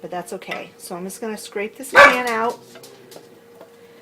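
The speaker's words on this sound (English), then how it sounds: "Pardon the barking dogs, this is part of my life." Dogs bark a few times in the background while a person talks close by, with one loud bark standing out.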